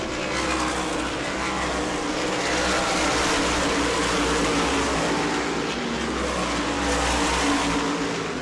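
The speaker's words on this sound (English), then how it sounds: "Battle might be for second in this one as Austin Beers has navigated the traffic to perfection" Race cars at New Smyrna roar past in a dense, continuous engine drone, loud and sustained with shifting revs as the pack circles the track, with no talk over it.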